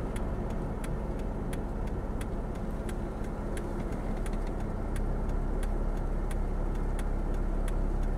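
A truck engine idles steadily outdoors near bushes, a constant low rumble running throughout with a faint regular ticking layered on top, no voices heard.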